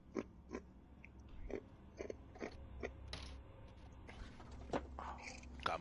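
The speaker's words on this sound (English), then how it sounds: "You chewing on ice" Someone crunches ice cubes between their teeth close to the mic, with irregular sharp crunches spread over several seconds against a low background hum during a Call of Duty Cold War session on PS5.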